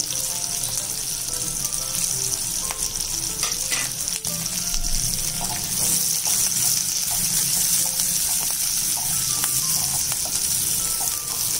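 Green chilli slices and curry leaves frying in hot oil with prawns, a dense, steady sizzle with scattered crackles and spatters, close and continuous with no voices.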